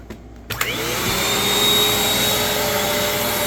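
A Bissell vacuum cleaner runs on carpet, starting with a click and surging up to a steady, loud whine that holds constant close by.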